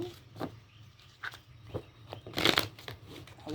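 Tarot cards shuffled by hand in short irregular bursts of riffling and sliding, close and fairly quiet, with louder flurries toward the end.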